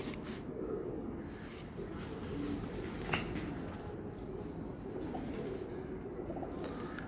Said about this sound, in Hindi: अब ये लाल आंख का कबूतर है जी